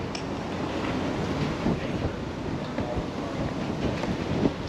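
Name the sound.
wind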